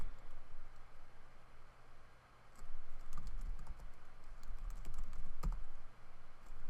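Keystrokes on a computer keyboard while configuring a network device in Packet Tracer, a close run of clicks getting busier toward the end, over low background hiss with no one speaking.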